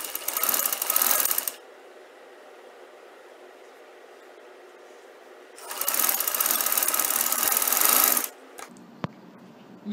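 A sewing machine stitches over folded fabric in two loud close bursts with a quiet stretch between them, the second run longer.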